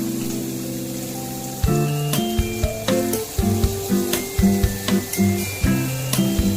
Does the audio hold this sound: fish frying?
yes